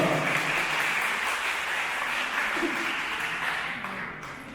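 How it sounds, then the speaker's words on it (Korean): Wedding guests give a dense, sustained round of applause that holds steady and eases off slightly at the end. "박수 부탁드립니다."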